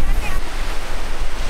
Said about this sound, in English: I'm going into the ocean now.